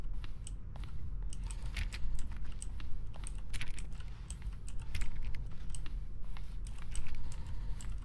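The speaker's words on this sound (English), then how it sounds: "Each sound is a mix of keyboard strokes and a synthesized tone." Button sounds from The Stanley Parable mix keyboard strokes with a synthesized tone, giving a steady stream of close, crisp key clicks over a constant low hum. No voices are heard.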